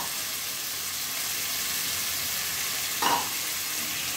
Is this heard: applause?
no